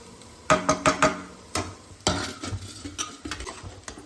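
Goat blood fry being stirred in a metal pan, a Madurai-style dish: a series of sharp spatula scrapes and clinks against the pan, close and fairly loud, with a soft sizzle beneath and no talking.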